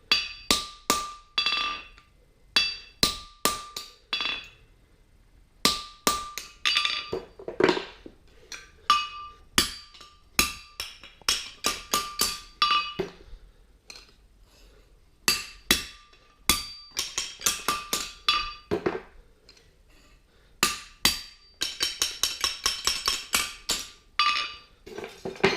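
Repeated hammer blows ring on an anvil while a fullered steel horseshoe, a 3/4 straight bar shoe, is shaped; sharp metallic strikes come in quick bursts and pauses, with a fast flurry of lighter taps near the end, close and loud.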